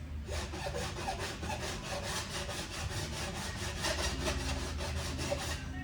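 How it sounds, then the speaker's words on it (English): A coarse bastard-cut file drawn flat along a ski's steel edge: steady rhythmic rasping strokes about three per second, close and even, with no talk. "So I'm going to start with the bastard cut. This will be your most coarse file."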